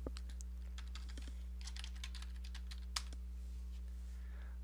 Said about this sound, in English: I'm going to just type in the external link.